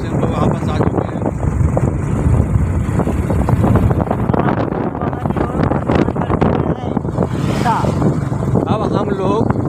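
A Bajaj CT 100 motorbike is ridden on the road between Seoni and Chhindwara, giving a steady, continuous engine drone heavily mixed with wind buffeting against the microphone.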